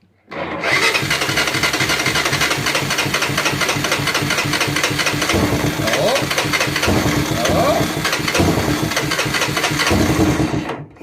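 Honda Fortrax ATV engine cranking over and over in a fast, steady rhythm as it tries to start, loud and close, with a few brief sputters partway through but never catching.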